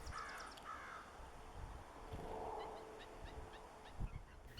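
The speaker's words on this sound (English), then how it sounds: "There was a crow watching though, and when Blue left" A crow caws a few times outdoors, moderately near but faint against background noise, with short harsh calls spaced across a quiet yard.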